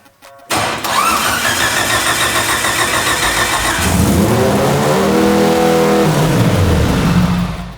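A Mitsubishi Evo, built for about 2000 horsepower, cranks and roars to life, then holds a loud, rough idle with rising and falling revs close by.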